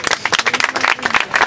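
Crowd applause and clapping at a Spanish-language rap battle semifinal, dense and continuous over about a second and a half, with a little voice mixed in.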